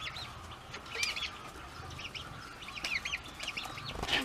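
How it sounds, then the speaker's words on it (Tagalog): Native chickens cluck and call on a farm in short, scattered bursts, moderately near over quiet rural background, with no talking. "Native chicken."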